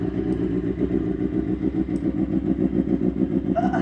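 BMW S1000RR sportbike with a full titanium SC Project exhaust after a cold start, idling with a loud, steady, pulsing rumble close by, with faint clatter near the end.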